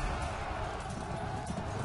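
Horse hooves in the Pike & Shot battle game produce a dense, continuous rumble of clopping, steady and fairly loud, with no clear separate beats.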